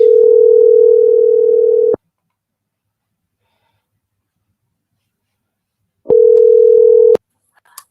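Steady telephone dial tone while a number is being called back, a loud continuous hum lasting about two seconds, then silence, then returning for about a second before cutting off.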